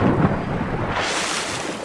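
A thunderstorm rumbles in Assassin's Creed IV Black Flag, a loud, steady wash of heavy rain and low thunder filling the scene, with a deep roll early and a bright hiss building midway.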